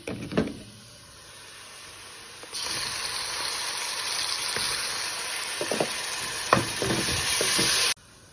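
Onions fried until crisp and golden sizzle in a pan as garlic goes in, a steady broadband frying hiss that rises and stays loud, with occasional clinks and stirring scrapes.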